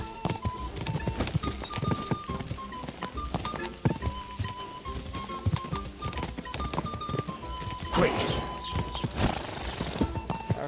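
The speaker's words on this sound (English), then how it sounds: "O cavalo vai me jogar, vai me jogar." A horse gallops in Kingdom Come: Deliverance II, its rapid, steady hoofbeats clattering close and loud over a dense bed of other game sounds, with no one talking.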